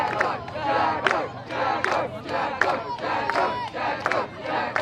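Spectators at the 2016 under-15 boys' national lacrosse final chant and cheer in a big, rhythmic crowd roar, with regular shouted beats recurring about every half second.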